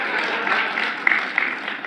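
Audience applause at a political speech, a broad steady wash of clapping from a crowd with a few sharper claps standing out, moderately loud and continuous throughout.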